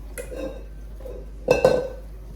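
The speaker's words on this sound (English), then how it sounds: "Now this is my bigger than 9x13 pan." A large metal baking pan, bigger than 9x13, is handled in a kitchen, giving a few close clinks and clanks, with a sharper double knock near the end and no talk.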